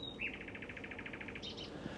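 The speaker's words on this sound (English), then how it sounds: "Now nightingales, that's a male singing." A male nightingale sings at night, delivering a short phrase of rapid, evenly repeated whistled notes followed by a brief higher flourish, faint and somewhat distant against quiet background noise.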